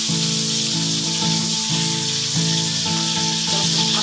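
Pork sizzling in a hot pan for pinakbet, a loud, steady crackle and hiss of frying fat running throughout with no voices.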